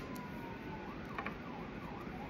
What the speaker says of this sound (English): Yeah, I'm hearing sirens outside.